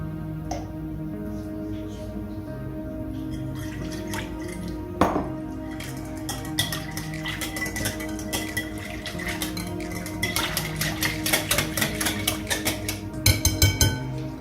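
Turkish bread dough ingredients being mixed in a bowl, with steady soft clinks and wet squishing strokes, denser and more rhythmic toward the end, close and fairly quiet, no talking.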